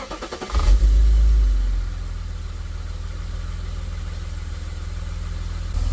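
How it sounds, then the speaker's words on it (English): A car engine cranks and catches right after an oil change in an abandoned garage, with a loud burst of revving at the start that settles into a steady, low idle rumble. "Let's see if the car starts now though."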